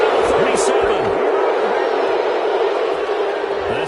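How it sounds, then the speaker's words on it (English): Home crowd at an NFL football game roaring in approval after a call, a dense, steady wall of cheering and stadium noise that holds loud for several seconds. "This home crowd, they're happy with that call."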